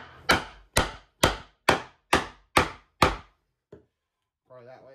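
A chisel chopping a mortise in wood by hand: seven sharp, evenly spaced mallet strikes ring out close and loud, then a faint tap and a brief bit of talk.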